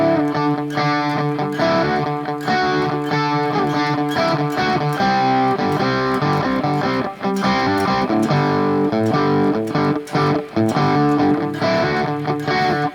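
Palm-muted, distorted electric guitar riff, played near the bridge pickup as a driving chugging pattern with brief gaps, loud and alone.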